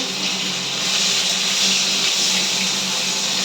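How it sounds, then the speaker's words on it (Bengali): Fish frying in a pan gives a steady, loud hiss of sizzling oil that holds evenly throughout, with no voices. "তো দেখো এইখানে মাছ ভাজা হচ্ছে।"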